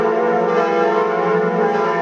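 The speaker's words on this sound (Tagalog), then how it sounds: "Naringgan ulit sa kauna-unahang pagkakataon ang kampana ng Notre Dame Church sa France" A large church bell of Notre Dame in France rings with a sustained, rich metallic hum full of overtones that holds steady and loud throughout without a fresh strike.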